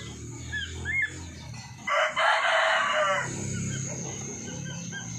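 A rooster crows loudly once over scattered clucking and chirping from nearby chickens and ducks outdoors, with a steady outdoor hum behind.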